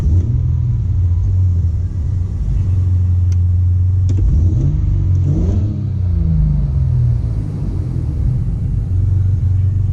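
A Ford EF Falcon engine idles with a misfire, giving a loud, close, uneven rumble with a couple of short revs rising and falling midway, steady and continuous without talk.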